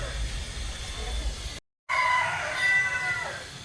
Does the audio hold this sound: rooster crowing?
yes